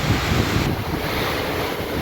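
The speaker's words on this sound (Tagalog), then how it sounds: "ang lakas ang lakas ng hangin ang ating balag" Strong typhoon wind buffets the microphone in a loud, constant rumble, layered over rushing storm noise, with no voices.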